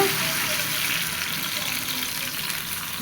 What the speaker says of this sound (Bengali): ঝোলের জল ঢেলে জল দিয়ে দিলাম